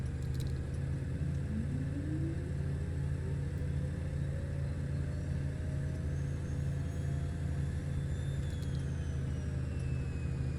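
A Beech Starship aircraft engine in Microsoft Flight Simulator 2024 drones steadily throughout with a low hum and a slowly rising whine, constant and unbroken, with no voices.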